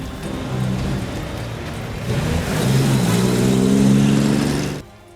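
A car drives off in steady rain, its engine revving and rising in the middle before the sound cuts off abruptly near the end, with a wash of rain noise throughout.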